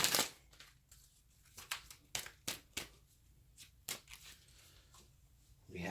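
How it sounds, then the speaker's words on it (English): Tarot cards being shuffled by hand in a quiet room, a series of soft crisp riffles and flutters in uneven bursts, close and fairly faint, with no talk. "Let me get one more good shuffle here"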